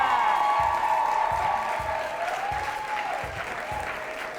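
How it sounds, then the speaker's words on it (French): At a startup competition, an audience applauds the jury president, with steady, dense clapping filling the hall at moderate volume while a voice speaks over it through a microphone. "Et vous faites bien de l'applaudir aussi fort parce que c'est le président de ce jury"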